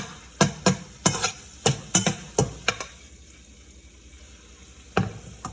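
A metal spoon scrapes against the bottom of a metal pot while spicy bacon and egg fried rice cooks, about ten sharp scraping strokes in a quick uneven rhythm, then a pause before one more, close up over faint sizzling.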